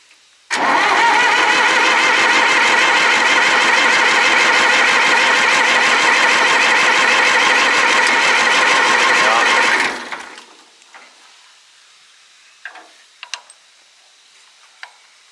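An old Zetor 4911 tractor that has sat unused for 40 years cranks and fires, its engine running loud and steady for about nine seconds before cutting off abruptly, followed by faint clicks and knocks.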